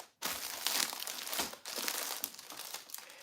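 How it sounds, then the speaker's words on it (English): Cellophane bags crinkle and rustle close up while an order is packed, a dense crackling burst after a short silence, briefly dipping then continuing as sustained crinkling, with no talking. "I like to use these cellophane bags"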